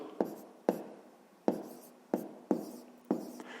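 Pen scratching on paper up close as numbers are written by hand, six short separate strokes in an uneven rhythm, faint and quiet with no talk.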